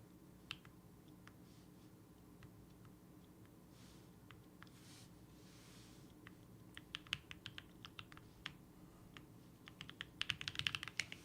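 Computer keyboard typing during a typing test, heard as scattered quiet key clicks that grow into a fast, dense burst of keystrokes toward the end, close and otherwise alone in a quiet room.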